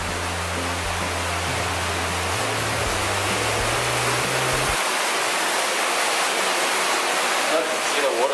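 Continuous roaring rush of falling water from a waterfall in Pinnacles National Park, steady and broad, with a low hum fading out partway through.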